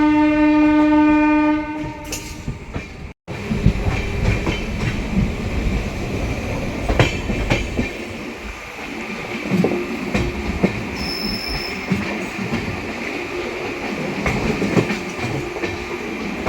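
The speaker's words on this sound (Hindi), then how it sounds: "चलिए निकल चुकी है अमृत भारत एक्सप्रेस।" The inaugural Amrit Bharat Express pulls out of an Indian station with a long, loud horn blast, then rolling wagon rumble, clatter and occasional wheel squeal that carry on steadily.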